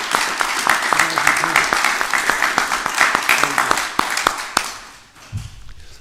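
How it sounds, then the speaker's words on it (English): Crowd applause at a mayor's press conference, a burst of many hands clapping briskly and close, tapering off toward the end as a voice speaks briefly over it. "Can we have a big round of applause again for everyone?"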